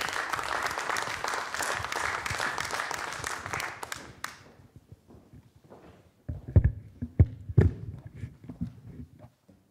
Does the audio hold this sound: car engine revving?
no